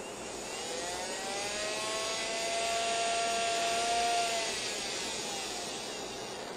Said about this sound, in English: As we hit the resonant frequency, note as the light bulb goes dim and the motor skyrockets off.